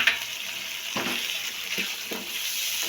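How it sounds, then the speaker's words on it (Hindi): Potatoes and peas sizzle steadily in a frying pan, a continuous hiss with a few soft stirring scrapes near one, two and two and a half seconds, no talking. "तकरीबन 1 मिनट के लिए इसको भी इसके साथ भूनेंगे।"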